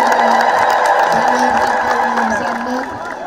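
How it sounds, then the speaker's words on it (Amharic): A large crowd claps and cheers warmly at an Ethiopian Orthodox church inauguration in Gurage, dense continuous applause with shouts mixed in, loud and close throughout. "ኧረ ሞቅ አድርጋችሁ አጨብጭቡ"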